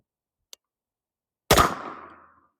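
A 9mm AR pistol fires a single Critical Defense 115 grain round at the range: a faint tick, then one loud, sharp shot with a short decaying echo, surrounded by near silence.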